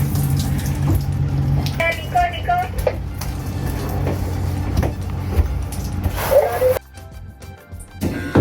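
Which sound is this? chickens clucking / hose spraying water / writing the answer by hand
hose spraying water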